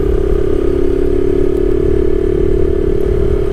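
A 2025 Honda Navi motorcycle ridden in the Philippines, its small engine holding a steady, loud mid-pitched drone with rattly road clatter throughout, no voices.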